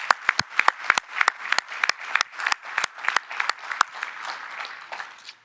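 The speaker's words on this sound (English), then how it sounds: "I think a round of applause for Marie absolutely is." A meeting audience applauds for Marie, a small group giving distinct, close, uneven claps that thin out and stop after about five seconds, with no talk over them.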